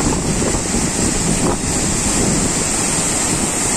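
Chinma waterfall roaring: a loud, continuous, broadband rush of falling water, steady and close throughout, with wind buffeting the microphone.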